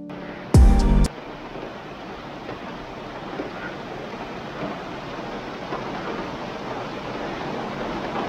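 Heavy monsoon rain pours onto a flooded street in a steady, dense hiss that lasts throughout, with one brief loud thud near the start.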